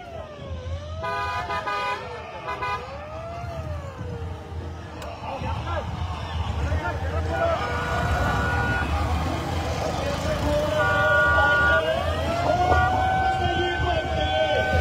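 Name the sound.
convoy of cars honking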